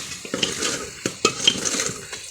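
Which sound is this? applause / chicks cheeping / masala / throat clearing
masala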